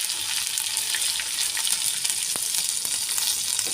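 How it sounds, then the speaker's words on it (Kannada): Grated ginger hits hot oil with mustard and cumin seeds while tomato upma is made, a continuous bright sizzle with scattered pops and crackles, close and alone. "ಹಾಗೆ ಇಲ್ಲಿ ನಾನು ತುರಿದಿರಿಸಿಕೊಂಡಂತಹ ಶುಂಠಿಯನ್ನು ಹಾಕ್ತಾಯಿದ್ದೀನಿ"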